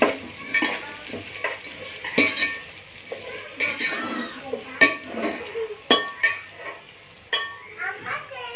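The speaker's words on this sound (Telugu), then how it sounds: "అందులో కొంచెం బంగాళదుంప ముక్కలు, అలాగే క్యారెట్ ముక్కలు వేసి కొంచెం ఫ్రై చేస్తున్నానండి" Potato and carrot pieces fry in a pan with a steady sizzle, broken by repeated scraping stirs and sharp clinks of a utensil against the pan, close and fairly loud.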